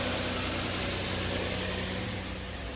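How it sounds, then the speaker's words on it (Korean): A Kia K7 3.0 LPI engine on a cold morning start, misfiring and idling roughly with a steady, shaking rumble and vibration, close and continuous, with no voices. "처음에 시동 걸면 이제 심하게 좀 떨고 체크 깜빡거리고"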